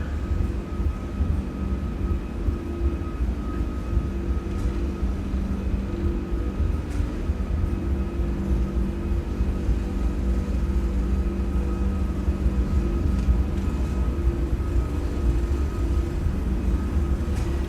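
Airbus jet engines at takeoff thrust in a flight simulator make a steady, loud, dense roar with a constant low rumble and a faint whining tone through the whole run, with no talk.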